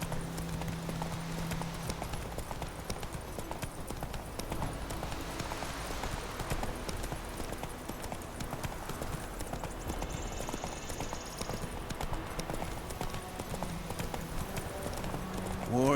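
A horse's hooves clip-clop steadily in The Witcher 3 under a dense bed of game music and ambience, with a brief voice near the end.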